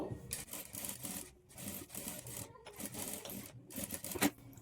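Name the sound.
sewing machine top-stitching a boat neck blouse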